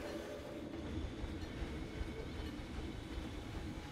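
A train ride in the Planet Zoo video game gives a steady, faint rolling rumble of rail carriages with soft rattling, continuous and without talk.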